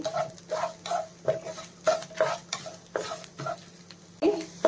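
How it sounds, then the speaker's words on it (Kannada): Onions frying for an Andhra-style onion chutney are stirred in a pan, a steady series of close scraping, clinking strokes about twice a second over a low sizzle, with no talking. "ಎಲ್ಲ ಸ್ವಲ್ಪ ಚೆನ್ನಾಗಿ ಫ್ರೈ ಮಾಡ್ಕೋಬೇಕು ಗೋಲ್ಡನ್ ಬ್ರೌನ್ ಕಲರ್ ಬರೋ ತನಕ ಚೆನ್ನಾಗಿ ಫ್ರೈ ಮಾಡ್ಕೋಬೇಕು"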